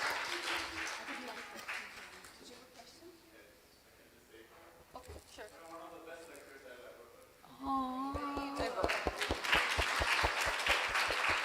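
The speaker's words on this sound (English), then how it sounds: "Let's give a huge round of applause for Premarupa Madhavi for such a wonderful c" Applause breaks out after a temple class at a Sunday feast: talk at first, then strong, rapid clapping from the gathered audience builds and fills the last few seconds.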